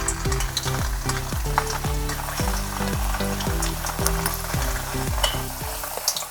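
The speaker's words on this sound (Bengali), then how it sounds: "এবার কাবাবগুলো ভেজে নিচ্ছি।" Soya chunk seekh kebabs sizzle steadily in about two cups of hot oil in a pan, a continuous loud crackling fry heard alone under a repeating melodic background.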